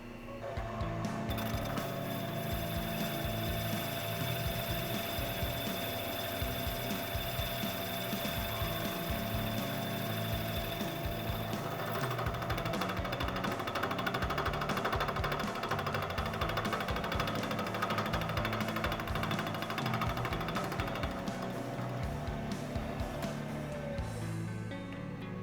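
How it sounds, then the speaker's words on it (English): A machining cut on an Aermacchi front hub rattles steadily in a workshop, a continuous dense chatter of metal on metal with a high whining tone running through it, sustained and even throughout. "That's the noise as it's hitting that. That's an interrupted cut."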